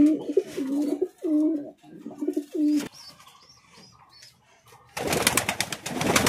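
Lotan pigeons give several close, throaty coos in bursts, followed by a few soft chirps and then a loud rush of wing flapping as they flutter.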